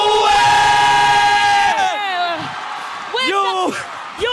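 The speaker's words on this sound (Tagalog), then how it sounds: "Sabay-sabay tayong sumigaw!" A crowd shouts and cheers at a live Mobile Legends esports match, a loud sustained roar that dips and then swells again, with excited voices rising over the noise.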